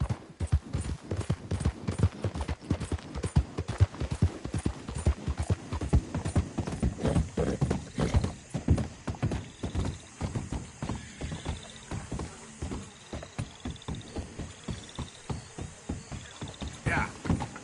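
Hooves clip-clop in a quick, steady rhythm as a horse gallops through the open world of the video game Red Dead Redemption 2, with occasional snorts and faint bird calls behind it.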